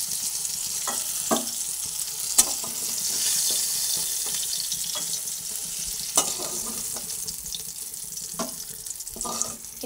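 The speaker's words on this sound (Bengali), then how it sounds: "এরপরে শিমগুলো ভেজে নিয়েছি, তাই তেল থেকে আমি শিমগুলোকে তুলে ফেলছি।" Broad beans (shim) being lifted out of hot frying oil in a pan, a faint steady sizzle with scattered scraping and clinking of a utensil, close by with no talking.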